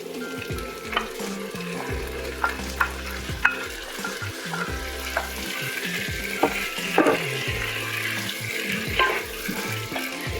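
Butternut squash and chopped garlic sautéing in a soup pot, a gentle steady sizzle with a series of close spoon scrapes and light knocks against the pot as everything is mixed, no one speaking.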